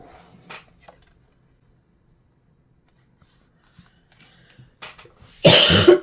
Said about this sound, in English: I'm trying my best to not cough